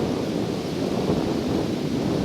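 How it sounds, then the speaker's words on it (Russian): Heavy wind buffets a microphone with a weak windscreen outdoors while fishing, a constant low rumbling roar, loud and unbroken, with no other sounds coming through. "Это ветер шумит. Ветер шумит, да, здесь ветрозащита слабая."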